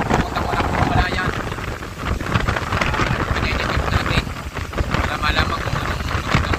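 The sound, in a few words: strong wind blowing at sea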